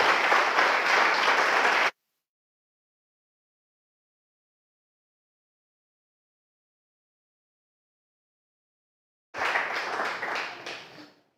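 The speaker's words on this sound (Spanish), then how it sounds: "Denle un fuerte aplauso al Señor, hermano." A church congregation applauds after a sermon. Two bursts of steady clapping are heard, the first lasting about two seconds, then several seconds of silence, then a second burst that fades out.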